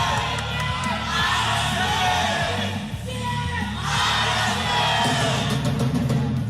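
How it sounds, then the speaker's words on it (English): Crowd at a Mobile Legends esports watch party cheers, whoops and yells continuously over rhythmic drumming, with loud swells of shouting and people talking through the noise. "cheer natin yung mga Raiders!"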